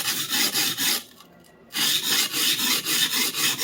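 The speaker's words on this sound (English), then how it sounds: "So this sharpening with the left hand dominant is still fairly new to me." A knife is sharpened by hand in rapid, even rhythmic strokes of steel rasping against a stone, pausing briefly for about half a second before the strokes resume.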